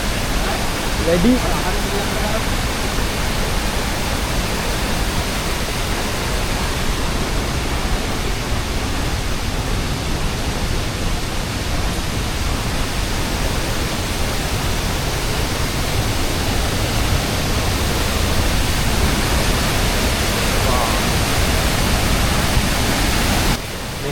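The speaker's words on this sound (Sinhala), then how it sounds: "මේ දිය ඇල්ල සාමාන්‍යයෙන් මීටර් 40ක් විතර උසයි කියලා තමයි සඳහන් වෙන්නේ" Dedu Gala waterfall in Sri Lanka, about 40 meters high and feeding a tributary of the Kelani River, gives off a steady, dense roar of falling water, with a voice faintly audible over it.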